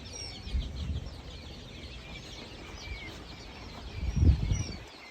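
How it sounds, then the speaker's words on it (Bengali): Many small farm chicken chicks peep and chirp continuously in a dense, high-pitched chorus at a quail farm in Shibchar, Madaripur, with occasional low thumps and rustling nearby. "এছাড়া এখানে ফার্মিং মুরগির বাচ্চা আছে"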